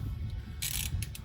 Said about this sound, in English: Take these little bolts out, put them right here on the side.